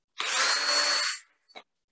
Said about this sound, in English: It's my favorite power drill.